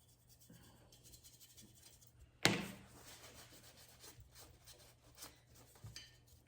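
Dark wax is rubbed onto a thrifted furniture piece with soft, faint scratchy strokes, opened by one sharp knock or clack followed by quiet intermittent brushing and rubbing, no talking.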